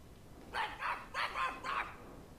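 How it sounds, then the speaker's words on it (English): A dog barking in the Dragon Age 2 video game: four short, moderately loud barks in quick succession, alone with no talk over them. "Oh, the dog's barking."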